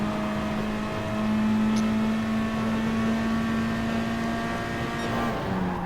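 Front-wheel-drive race car in a racing game at Monza, the engine holding a steady high-pitched drone throughout with a slight pitch change near the end, loud and close, with no talk.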